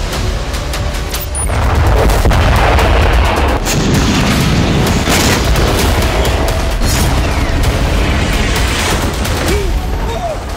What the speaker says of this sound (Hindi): भीषण गोलाबारी करके